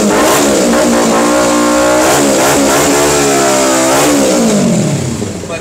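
A 300cc motorcycle fitted with an aftermarket silencer exhaust at a used bike dealership revs loudly and close, with the engine note rising and falling through repeated throttle blips before settling toward idle.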